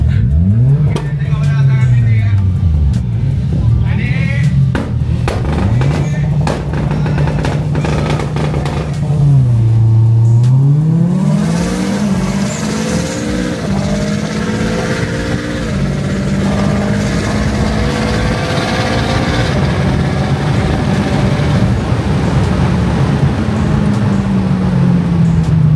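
A drag racing car accelerates hard at a drag event, its loud engine climbing in pitch through repeated gear shifts with a brief lift around mid-run, while people talk nearby.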